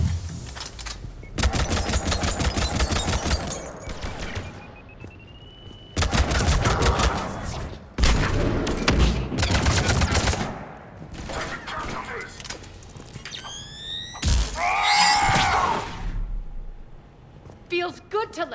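Gunfire in Mass Effect 3 rips out in several dense bursts of rapid automatic shots, with short pauses between volleys and a voice speaking during the fighting.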